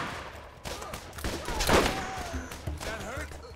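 An enemy opens fire in Borderlands with rapid crackling gunshots that build to a loud peak midway, while someone talks over the shooting.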